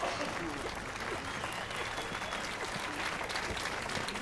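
Applause in The Witcher 3 video game, a steady broadband patter of clapping that runs throughout at an even level, with speech faintly mixed underneath.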